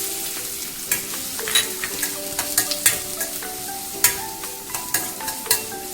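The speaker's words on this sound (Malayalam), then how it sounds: "അരിഞ്ഞു വെച്ചിരിക്കുന്ന ഉള്ളി ഇടാം" Chopped onion frying in oil with cumin seeds, a loud, close, continuous sizzle with regular spoon scrapes and taps against the pan.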